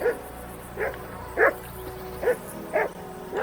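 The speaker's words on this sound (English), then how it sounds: "Jesus, Henry, that barking's driving me nuts" A dog barks repeatedly in the medieval game Kingdom Come Deliverance 2, about six sharp woofs at a steady, roughly half-second-apart rhythm, fairly close, over a quiet background with no speech.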